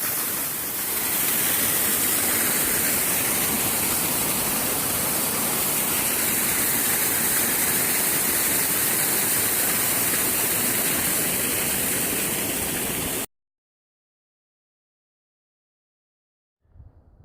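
Water in a stream beside the Appalachian Trail rushes in a steady, dense broadband wash for about thirteen seconds before cutting to silence, followed by a brief faint sound.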